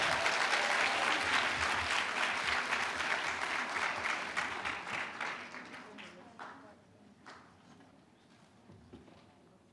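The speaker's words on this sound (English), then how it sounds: "round of applause for Google." An audience at a hackathon demo and prize ceremony gives a round of applause for Google, a loud, dense burst of clapping that fades gradually into scattered claps over about ten seconds.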